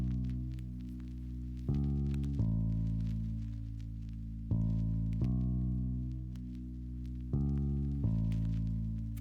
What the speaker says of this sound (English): So this bass pattern is really simple.